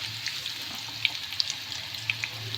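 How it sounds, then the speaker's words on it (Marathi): Potato slices coated in cornflour frying in hot oil give a steady, quiet sizzle with occasional sharp pops and crackles scattered throughout. "हे बटाट्याचे काप आता तेलात टाकले तळायला"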